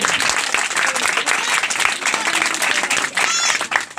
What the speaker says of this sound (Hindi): जितने खुश हैं वो आपकी तालियां बताएंगे।